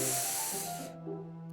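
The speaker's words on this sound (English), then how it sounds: "someone's sucking the air through their teeth" A sharp hissing inhale through teeth in Doki Doki Literature Club Plus, heard as a bright, airy hiss that cuts off abruptly, followed by a low steady hum.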